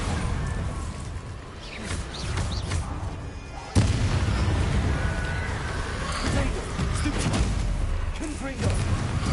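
Bombarda spell explosions in Hogwarts Legacy, a string of booms and thuds over dense game combat noise, with one sharp louder hit midway and voices speaking throughout.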